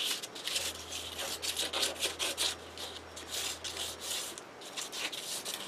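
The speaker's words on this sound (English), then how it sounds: "I'm going to use a palette knife to just spread this around" A palette knife spreads paste across a paper journal page, continuous scratchy rubbing strokes in an uneven rhythm, close and moderately loud.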